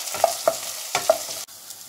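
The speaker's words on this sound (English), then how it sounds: "Just saute." A spatula stirs sliced red onion, ginger and green chili sautéing in a pan, with a few sharp scrapes over a steady sizzle, close and moderately loud, and no voices.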